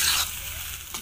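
Matar paneer masala sizzles and frying-pan stirring scrapes close up, a steady hiss of cooking with a brief clatter near the end and no talking.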